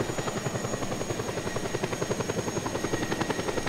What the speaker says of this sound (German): Mit dem Helikopter ist doch vieles einfacher.